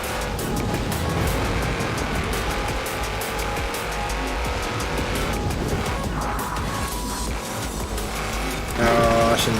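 Engine roar of a car in a racing video game, a steady loud drone with shifting pitch and a brief squeal near the end, with a voice talking over it.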